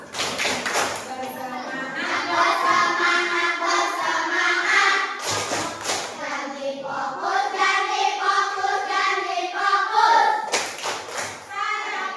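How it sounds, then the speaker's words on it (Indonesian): A classroom group performs a rhythmic clapping routine, with sharp bursts of clapping at intervals between stretches of lively chanting and speaking voices. "Tepuk janji fokus."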